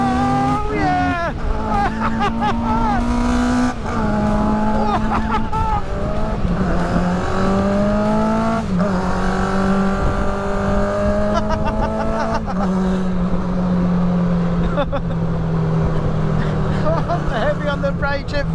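A 1000cc tuk-tuk engine revs hard through a fast ride, its loud droning note climbing and dropping repeatedly as it shifts, close and continuous with a rider's exclamations over it.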